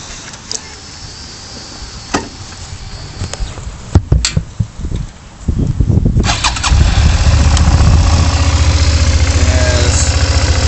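A 2005 Suzuki SV650 motorcycle engine cranks with a few clicks and sputters, then catches and settles into a loud, steady, close-up idle that runs to the end.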